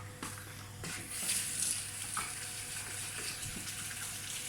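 Tap water running onto a clean tea towel, a soft continuous splashing flow with a few small knocks, fairly quiet and close.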